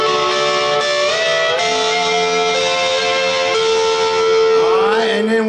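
Lap steel guitar with overdrive, a sustained slide note gliding upward with a pause partway, ringing with rich harmonics, loud and close with no talking.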